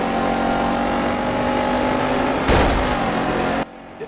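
A truck's engine in the racing video game Dirt 5 drones steadily at high revs, then a loud burst of noise hits before the sound cuts off abruptly.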